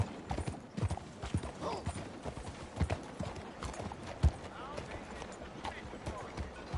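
Hooves of a galloping horse in the video game Red Dead Redemption 2 pound in an irregular quick rhythm of thuds and clops, with occasional snorts and a voice speaking over them.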